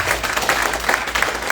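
An audience applauds volunteers at a local government gathering, giving a short burst of steady clapping from a modest crowd, fairly close.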